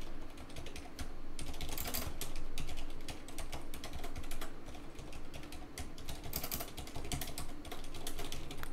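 Steady computer-keyboard typing during a game-development coding session, rapid irregular key clicks running throughout with brief bursts and pauses, close and clear with no talk.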